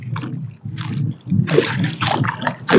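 Close splashing and sloshing in shallow water, several uneven bursts as someone moves through it, no talking.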